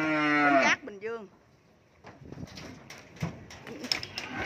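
Cattle on a cattle farm give one loud, drawn-out moo up close, followed by a shorter, lower call and then scattered shuffling and clattering noises around the pen.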